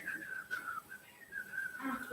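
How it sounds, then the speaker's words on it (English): A child whistles in a classroom, a thin wavering tone that breaks and restarts over about two seconds, with faint voices underneath. "he was whistling, and the teacher will listen to it"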